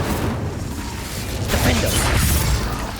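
A fire spell roars out during a fight in Hogwarts Legacy, a dense loud whoosh of crackling, rumbling flame mixed with impacts that swells and holds steady.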